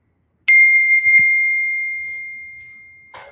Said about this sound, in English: if y'all hear some dinging, it's just my phone